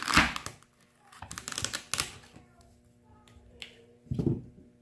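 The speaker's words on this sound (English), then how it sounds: "I'm going to cut up some celery for the kids' lunches today" A knife chops celery stalks on a cutting board, with a few sharp, quiet clunks spread unevenly across a soft, nearly silent background.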